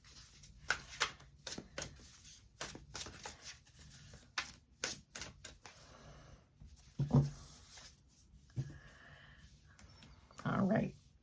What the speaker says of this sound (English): I have 2 cards sticking together. So I am going to take both. And then let me get a nice clarifying card here.